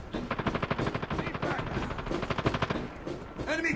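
Rapid, steady bursts of automatic machine-gun fire from a turret in a video game, loud and close with sharp repeated reports over roughly three seconds, a voice briefly speaking underneath.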